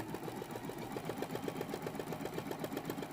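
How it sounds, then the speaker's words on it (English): A sewing machine running a satin stitch for fabric applique, its needle chattering in a fast, even rhythm at close range with a steady mechanical hum underneath. "Again, I'm doing a satin stitch and I've changed the color of my thread."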